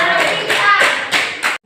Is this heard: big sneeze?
no